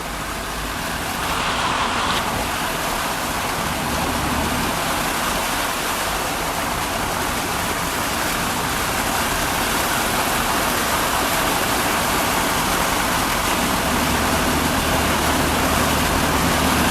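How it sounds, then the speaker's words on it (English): A flooded creek rushes after heavy rain, a loud, steady, unbroken roar of churning water close by, with no pauses for the whole stretch. "we had a pretty good flood. That's where the creek is."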